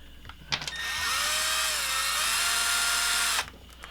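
A power driver spins a screw into an RC car, enlarging the hole, giving a loud close whirring buzz that rises and holds steady for about two and a half seconds, with short clicks before it.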